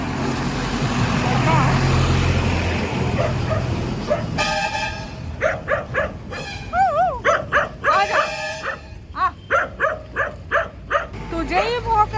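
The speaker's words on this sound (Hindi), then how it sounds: "तुझे ही भौंक रहा है डॉगू" A dog in countryside near paddy fields starts barking after a few seconds of rough outdoor background noise, then keeps up a run of sharp, repeated close barks and yips in uneven bursts.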